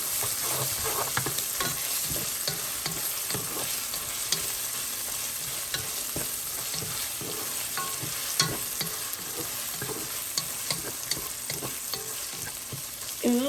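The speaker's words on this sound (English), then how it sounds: "Next, I'm going to throw in some tomato paste" About a tablespoon of double-concentrated tomato paste frying in a pan of grease, a constant crackling sizzle with repeated stirring scrapes and taps throughout, no talking.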